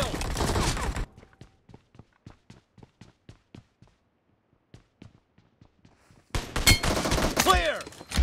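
Automatic gunfire fills a BGMI team deathmatch, with loud sustained bursts at the start and end and a run of sharp single shots and footsteps in between. Announcer voice lines are heard in the game.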